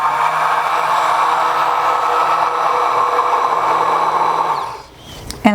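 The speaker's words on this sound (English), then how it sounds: "now I'm going to take the emulsion blender" An emulsion blender motor hums loudly and steadily up close for several seconds while mixing body butter, then winds down and stops with a small clunk.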